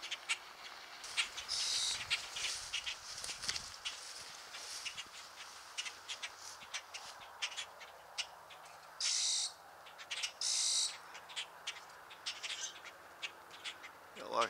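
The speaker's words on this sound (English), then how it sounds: "lots of grackles around this morning" Grackles call in bursts of harsh, high chirps and squeaks around an old abandoned church in the morning, with the calls spread across the clip over quiet outdoor background.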